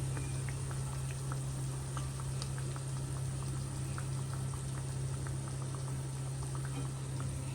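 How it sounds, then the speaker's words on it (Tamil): Chicken donuts deep-frying in oil over a low to medium flame, giving a steady, even bubbling hiss with light crackles throughout, alone and without talk. "அதனால் மீடியம் ஃப்ளேமோட லோ ஃப்ளேம்லேயே கொஞ்சம் வச்சு பொரிச்சு எடுத்துக்குங்க"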